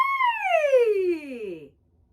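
A single voice slides smoothly from high to low in one sustained, gliding tone, imitating a siren, then falls silent.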